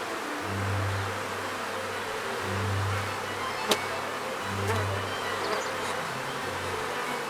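Low droning buzz of honeybees swelling and fading in repeated waves over a faint steady background, with a sharp click partway through.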